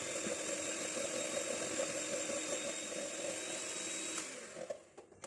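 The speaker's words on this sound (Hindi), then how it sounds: "सबसे पहले हम ऐसा करेंगे कि इस मक्खन को बीट कर लेते हैं" An electric mixer beats 75 grams of butter for poppy seed pound cake muffins, a steady close motor whine that runs for about four seconds and then winds down with a few clatters.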